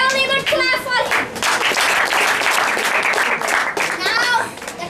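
Audience applause and clapping at a 2012 school debate, a steady wash of hand claps running through the clip, mixed with children's voices and chatter.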